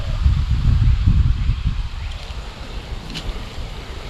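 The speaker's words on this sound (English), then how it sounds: "this wind is kicking. I don't know if it's messing with that sound on that camera" Strong outdoor wind buffets a camera microphone, a heavy low rumbling roar in close gusts that eases after the first couple of seconds into a softer, steady rush.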